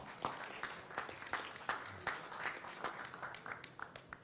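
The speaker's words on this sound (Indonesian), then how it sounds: "Tepuk tangan buat Argentina." A modest audience at a football federation press event claps for Argentina, the separate claps fairly faint and uneven, scattered across a few seconds before thinning out.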